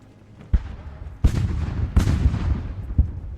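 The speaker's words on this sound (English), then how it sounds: "I love the sound of the cannons in this game." Cannons fire in the Ultimate General: Revolution battle game, four heavy booms spaced about a second apart with rumbling tails overlapping into a continuous din.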